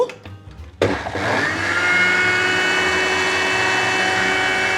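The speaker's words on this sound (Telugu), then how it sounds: "మిక్సీ మీద పెట్టుకొని బాగా బ్లెండ్ చేద్దాం" A mixer grinder starts up abruptly after a moment of quiet and runs with a loud, steady high-pitched whir, blending cream to separate butter for homemade ghee.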